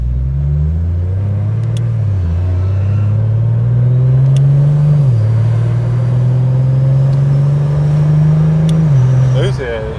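A car engine drones steadily while driving, its pitch rising in stages as the car accelerates through gears, loud and continuous with faint voices underneath.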